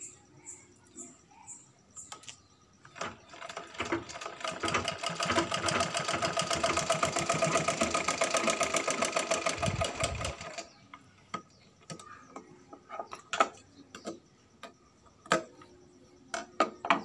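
A child runs a sewing machine to stitch a fabric mask. A close, rapid, even burst of stitching lasts about seven seconds, with scattered clicks and handling noises before and after.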